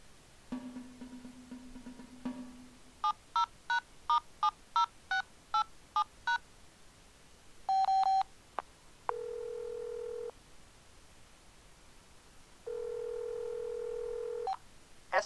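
Telephone keypad tones from an automated phone system in the Three Cards to Midnight adventure game: a brief low tone, then a rapid run of about eight evenly spaced DTMF beeps, a longer tone, and two sustained dial-style tones, with no voices.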